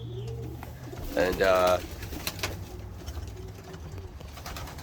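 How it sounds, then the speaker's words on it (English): Young pigeons coo in a breeding loft, a short burst of soft cooing and fluttering calls close by, with someone talking around them. "these are my young birds here."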